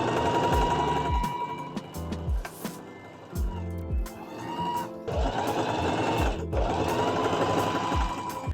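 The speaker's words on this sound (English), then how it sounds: "I'm gonna stitch from here to here with a 1/2 inch seam allowance." A sewing machine runs a half-inch seam on pajama shorts, its rapid mechanical stitching loud and close in several bursts separated by brief pauses.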